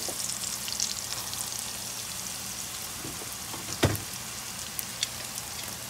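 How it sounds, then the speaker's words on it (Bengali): Onions and garlic fry in a pan with a soft, continuous crackling sizzle, plus a sharp utensil clink near the middle and a few faint taps later. "পেঁয়াজটা এরকম ভাজা ভাজা হয়ে এসছে, আমি এখন এর মধ্যে রসুনগুলো দিয়ে দেবো"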